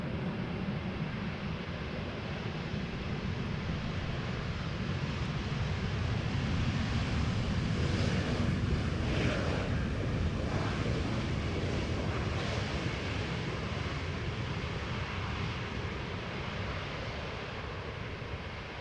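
An Airbus A320neo from London Gatwick lands at Amsterdam Schiphol Airport, producing a steady broad roar with a wind-like rush that swells slightly midway and holds for many seconds, moderately distant, with no voices.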